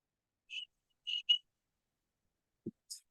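A few short, high whistled tones in quick succession, then a low thump and a brief high squeak, isolated against silence.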